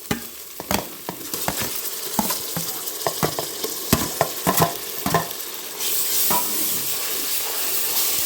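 Ginger, garlic, shallots, green chilli and cashews sautéing in a pan for mushroom biryani, crackling sizzle punctuated by repeated sharp clacks of a ladle stirring, then a steadier hiss toward the end; no speech.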